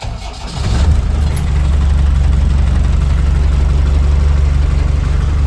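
A cold Series 3 Land Rover 88 Utility engine cranks and catches, then settles into a steady, loud low idle that rumbles on evenly.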